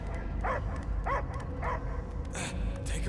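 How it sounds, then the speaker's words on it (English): A dog in the video game Marvel's Guardians of the Galaxy gives a few short barks and yips at a steady pace over a constant game backdrop. "I hear only barking."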